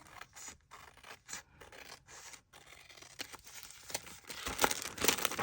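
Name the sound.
paper trimmer cutting paper for a journal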